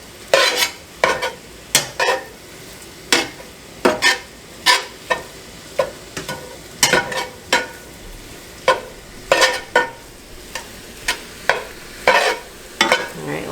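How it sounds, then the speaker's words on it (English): A pot of low-point Weight Watchers chili is stirred steadily with a utensil, giving a close run of about two dozen distinct scraping strokes in an uneven rhythm over a soft background bubble, with no talking. "Let that simmer for a little bit."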